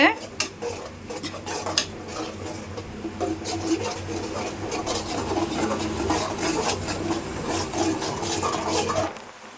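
A spoon scrapes and clatters steadily against a pan while spicy masala is stirred over a medium flame, with close, continuous rubbing and metallic knocks and no voices.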